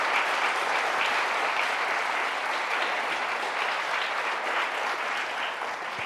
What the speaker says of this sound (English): I'd ask for a bipartisan round of applause